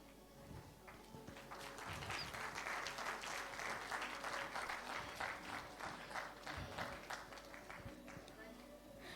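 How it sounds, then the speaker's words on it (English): A large crowd at an awards ceremony claps steadily for several seconds, a dense, sustained round of applause with faint voices mixed underneath. "the very big round of applause"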